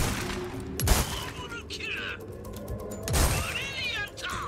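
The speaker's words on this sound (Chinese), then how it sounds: "移动到这里的时候开枪" Gunfire in the Resident Evil 4 Remake video game, a couple of loud sharp shots about a second and three seconds in, standing out over a busy in-game background of clatter and ambient effects.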